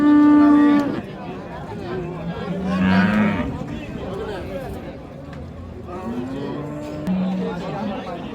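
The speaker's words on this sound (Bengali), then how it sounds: "সুন্দর সুন্দর গাভীর একটা আমদানি আছে আজকে হাটে।" Friesian dairy cows with calves lowing at a busy cattle market in Dinajpur, several loud drawn-out moos close by amid crowd chatter and someone talking.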